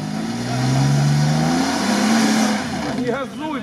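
An off-road vehicle's V8 engine revs hard and holds its pitch, then drops off, with voices shouting over it near the end.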